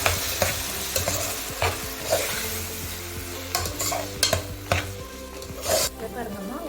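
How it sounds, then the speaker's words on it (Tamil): One large chopped onion and two tomatoes frying in a pan, a steady sizzle broken by repeated scraping stirs of a spatula against the metal, close and clear with no voices. "வெங்காயம் வதங்கிடுது"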